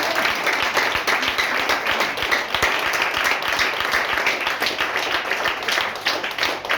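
A church congregation applauds steadily throughout, dense continuous clapping at fairly loud level with no break, a faint voice occasionally underneath.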